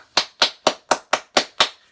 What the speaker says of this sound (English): in fact, I'm going to applaud